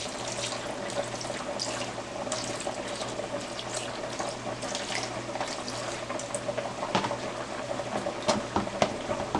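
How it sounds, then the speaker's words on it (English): Canned kidney beans are rinsed under a running kitchen tap, a steady wash of water splashing in the sink with small clatters, moderately near and without talk. "The next thing I'm going to do is pour my beans and wash the liquid that's on it that was sitting in the can."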